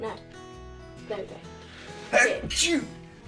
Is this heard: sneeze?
yes